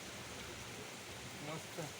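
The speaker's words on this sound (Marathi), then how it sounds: "तर तुम्ही बघू शकतात फुल पाऊस आहे" Heavy rain falls as a continuous, even hiss that sounds fairly distant and soft, with a faint voice briefly near the end.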